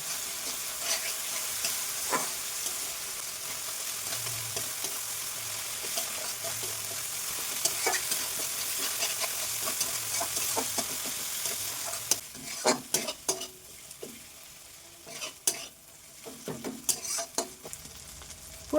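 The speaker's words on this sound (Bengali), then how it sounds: "এবার ভালোভাবে মশলাটাকে আমি কষিয়ে নেবো" Spice masala with Kashmiri chilli powder being stir-fried for snakehead fish kalia, a soft steady sizzle that grows busier in the second half with repeated scraping stirs and clatters against the pan.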